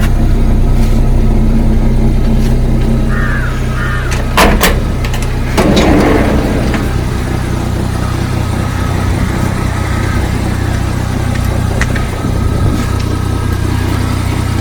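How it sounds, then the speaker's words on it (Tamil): A Maruti Suzuki Omni van engine idles steadily with a low rumble, broken by a few short knocks and clunks near the start. "ஸ்டார்ட் பண்ணியும் காமிச்சிட்றேன்"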